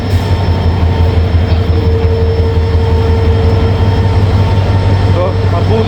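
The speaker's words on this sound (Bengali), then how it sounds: "ট্রেন আছে 5 নম্বর প্ল্যাটফর্মে আসছে।" Train arriving at platform 5 of a railway station, a loud, close, continuous low rumble and rolling wheel noise with a steady tonal hum throughout.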